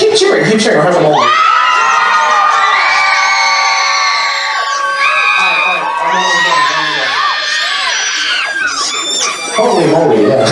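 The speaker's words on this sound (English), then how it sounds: "Just keep cheering. Keep cheering." A convention crowd at a furry event's floor wars roars with cheering, whoops and shouts, loud and sustained for about ten seconds, with many high excited voices layered together.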